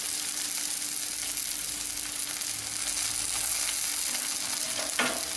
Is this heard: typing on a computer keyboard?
no